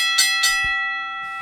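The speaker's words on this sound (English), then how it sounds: "Ring the bell," A bright bell strikes twice in quick succession, its clear metallic tone ringing on and slowly fading.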